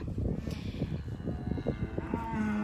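Cows and calves mooing in a farm field, with several overlapping low calls following one another steadily at moderate loudness and no talking.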